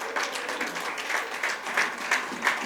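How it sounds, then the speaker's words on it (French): Church congregation applauding during a French-language worship service, a steady wash of clapping with rhythmic swells as hands beat together, moderately loud and close, with no voices over it. "Est-ce qu'on peut applaudir bien fort Jésus?"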